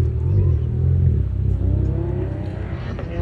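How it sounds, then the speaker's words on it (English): A Subaru Outback accelerates on an autocross course, its engine a steady low drone rising gradually in pitch, heard from a distance beneath a public-address announcer's voice. "Tucker Pittman will be the next to finish in the Subaru Outback."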